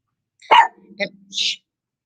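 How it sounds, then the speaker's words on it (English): A tiny dog under ten pounds gives a few sharp, high yips in quick succession, close and clear against a quiet background. "did y'all hear that bark? That was one tiny under 10-pound dog"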